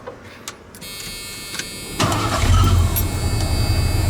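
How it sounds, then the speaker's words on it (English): A Ford Bullnose junkyard truck, swapped from EFI to a carburetor, cranks briefly and fires up, then settles into a steady, rumbling idle, close and fairly loud. "Let's see if she fires up and idles correctly."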